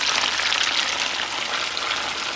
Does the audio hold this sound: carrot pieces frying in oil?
yes